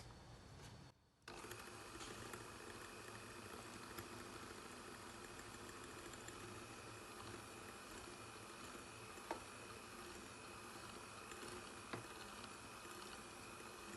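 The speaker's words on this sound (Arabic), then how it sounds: "كنخليوه الباتور خدام حتى كيولي الخليط ابيض على هذا الشكل" An electric hand mixer beats mini-cake batter with a steady, fairly quiet motor whir. The whir runs unbroken for the whole stretch except for a brief drop near the start.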